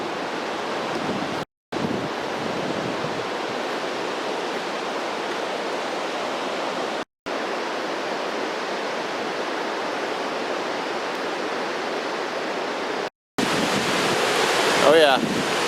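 Waterfalls at Diablo Lake pour with a steady, loud broadband roar, continuous and close, broken by a few short gaps and ending with some wind buffeting.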